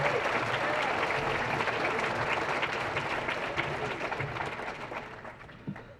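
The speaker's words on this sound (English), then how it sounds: "give Mr. Dubuque one more round of applause" At a high school sports banquet, a crowd gives a full round of applause, dense and even at first, then gradually tapering off with a few scattered claps near the close.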